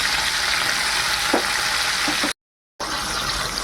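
Paneer cubes frying in hot oil in a pan, giving a steady loud sizzle and crackle with a few faint pops, cut by a brief silent gap.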